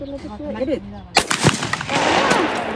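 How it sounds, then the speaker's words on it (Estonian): A shotgun blast at a clay-target shooting range in Pärnu rings out suddenly after a brief spoken exchange, followed by a sharp echoing report and lingering outdoor reverberation. "Siis me tulime siia Pärnusse lasketiiru ja me hakkame kettaid laskma."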